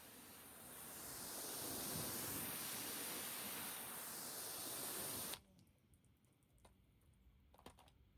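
Water sprays steadily onto a tire being rinsed clean, a loud, broad hiss that holds for about five seconds, then cuts off abruptly, leaving quiet drips and small knocks.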